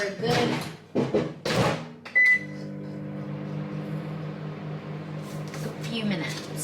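Microwave oven heating a large jacket potato: a voice talks first, then the door shuts with a clunk, a beep sounds, and a steady low hum runs on alone.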